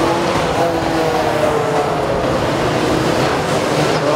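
Saloon stock cars racing around the Kings Lynn track in a ladies' charity race, a dense, continuous engine roar that stays loud and steady throughout.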